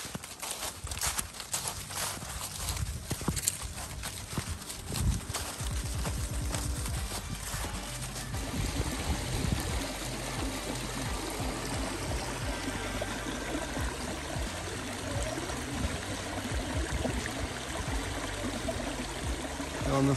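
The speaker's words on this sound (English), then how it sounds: "like this and the gushing of water" A backcountry stream's rushing water flows steadily in autumn, with hoof-like clopping and footsteps prominent early on before the gush of the stream dominates.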